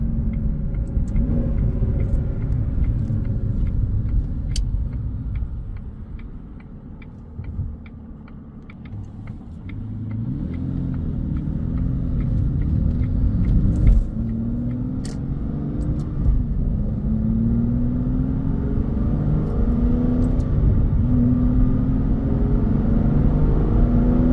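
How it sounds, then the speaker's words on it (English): A 2004 Aston Martin Vanquish V12 on a test drive in sport mode with paddle shifters, its engine droning loud and deep, rising in pitch through revs and shifts, briefly dipping mid-clip before climbing again. "That V12 sounds incredible."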